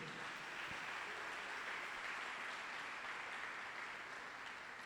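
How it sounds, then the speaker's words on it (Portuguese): Sustained congregational applause filling a church service, a continuous broad wash of clapping at steady volume from start to finish, with no speech on top. "aplauda Ele."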